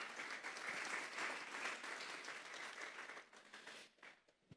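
A church congregation at a Thursday doctrine service breaks into dense, sustained applause that fills the room, then thins into scattered claps and fades out over the last second or so.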